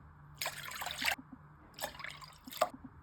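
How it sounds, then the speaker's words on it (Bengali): Water from a bowl is poured into a kadai, heard as three short, close splashing pours separated by brief pauses, fairly quiet against a low background hum. "একটা কড়া বসিয়েছি, ওর মধ্যে আমি 3 বাটি জল নেব।"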